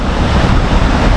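A steady, full roar of a rushing waterfall in Canada fills the short clip, constant and close with no breaks.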